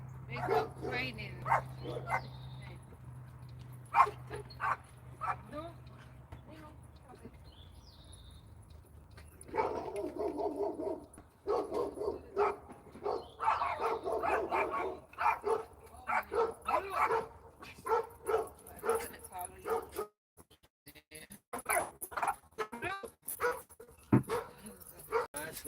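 Dogs bark in scattered bursts, some sharp yips and whimpers, mixed with people talking; the barking comes and goes at moderate distance.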